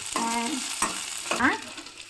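Okra tempering in hot oil in a pan for sambar gives off a soft crackling sizzle, broken by a few scraping stirs and clinks of the spoon, close by and fairly quiet.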